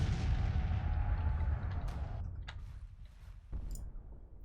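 Six-pounder cannons fire in a Civil War strategy battle near Washington, with a heavy sustained rumble of artillery followed by a few sharp, distinct booms as the barrage thins out.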